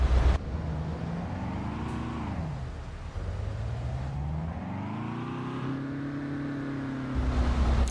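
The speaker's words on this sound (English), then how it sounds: "I heard you revving it." A truck engine in the TruckersMP driving game revs up and down in long rising and falling sweeps, a smooth harmonic drone swelling and easing twice, steady and fairly close with no talk over it.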